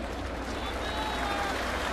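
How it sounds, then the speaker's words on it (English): A stadium crowd at a 2011 Yankees home game against the Blue Jays applauds a departing pitcher, a steady wash of distant clapping and crowd noise beneath a broadcaster's voice. "Stadium crowd gives him a warm hand."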